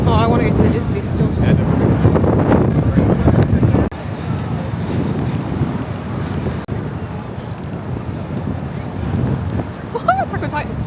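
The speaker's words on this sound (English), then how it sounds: "It's so windy today." Strong wind gusts in Times Square, New York City, rush and buffet against the microphone as a steady, loud roar, with busy street noise and someone talking throughout.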